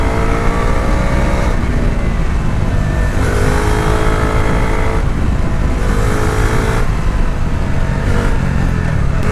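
A Bajaj Dominar 400 motorcycle engine revs loudly under throttle, rising and falling in repeated pulls with a steady, close, continuous drone.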